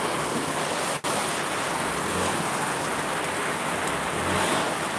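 Heavy rain pours down in a dense, loud, continuous hiss of drops drumming on surfaces, steady throughout apart from one brief break, with no voices over it.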